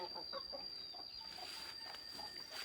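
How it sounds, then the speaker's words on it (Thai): Several chickens cluck and chatter close by in quick, overlapping bursts, with a steady high insect-like whine running throughout. "ไก่พวกนี้ไม่มีที่อยู่"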